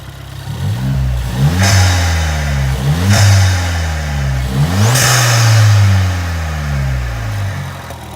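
A Ford Fiesta ST180 engine with a Pro induction hose revs repeatedly nearby, each pull climbing and then sagging back, with four or five loud surges in a row and no talking.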